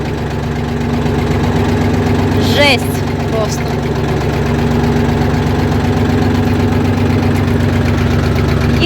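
A small walk-behind tractor engine chugs steadily and loudly throughout while hilling potatoes in a garden, with a brief voice speaking over it partway through.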